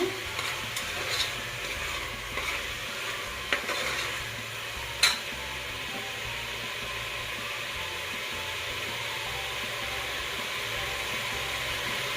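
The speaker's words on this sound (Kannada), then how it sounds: "ಚೆನ್ನಾಗಿ ಫ್ರೈ ಆದಮೇಲೆ ನಾವು ರುಬ್ಬಿಟ್ಕೊಂಡಿರೋ ಮಸಾಲ ಹಾಕೋಣ." Ground masala being stirred into vegetables frying for a green veg pulao, with a steady close sizzle and a few early scrapes and clinks of a spoon against the pan.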